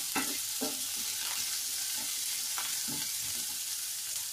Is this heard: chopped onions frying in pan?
yes